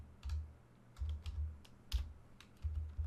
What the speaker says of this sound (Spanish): voy a hacer clic aquí en Excel y voy a añadir dos nombres más, voy a añadir Rodolfo